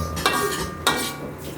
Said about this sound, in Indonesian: kita buka, kita aduk bos, kita aduk